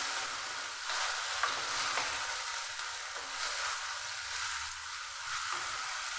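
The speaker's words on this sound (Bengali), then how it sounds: "টমেটো সমেত মশলাটা আমি কষিয়ে নেব।" Spices and two tomatoes fry in a pan for chicken biryani, a soft continuous sizzle with occasional stirring scrapes and clinks, fairly quiet and steady with no talk.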